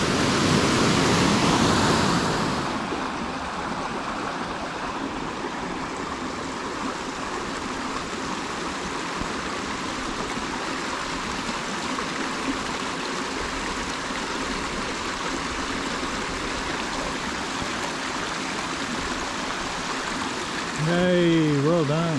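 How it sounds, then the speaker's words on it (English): Water rushing down the Araluen Cascade in Finch Hatton Gorge, Eungella National Park, a steady dense roar of falling water close by, with a brief louder burst at the start and a voice at the very end. "So this is the other swimming hole in the gorge, called the Araluen Cascade."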